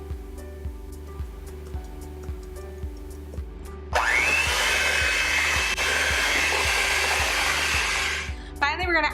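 An electric mixer kicks in partway through, loud and steady as it beats cookie dough with sifted all-purpose flour for snowball cookies, after a stretch of quieter rhythmic ticking, then cuts off with a brief rattle.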